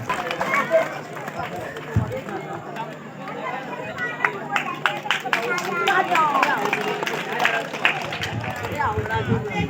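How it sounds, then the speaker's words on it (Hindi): Crowd applause for a Topper of the Year award winner at a school felicitation event in Uttarakhand, steady clapping and chatter building louder over the stretch, mixed with talking voices throughout. "जोरदार तालियां सोनी के लिए होनी चाहिए"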